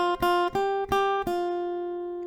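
Melody notes plucked on an acoustic guitar, four distinct attacks in a steady rhythm with the last note ringing out and fading, played alone, close and clear.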